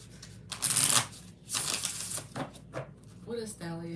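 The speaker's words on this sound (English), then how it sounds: "We're going to just do one more shuffle for the hell of it." Tarot cards being shuffled in repeated riffling bursts, crisp and close, followed by a few quiet spoken words.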